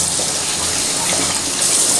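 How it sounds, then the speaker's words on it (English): Eggs rinsed under cold running tap water in a kitchen sink, a steady, fairly loud rushing gush of water that continues without a break for about two seconds. "Then just rinse it off in cold water, and just set it aside."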